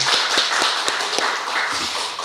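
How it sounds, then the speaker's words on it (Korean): A church congregation at a Sunday worship service claps in thanks and praise to God. Scattered sharp claps and taps sound fairly close over a diffuse murmur of hands, thinning out toward the end. "하나님께 우리 감사와 영광의 박수를 드리겠습니다"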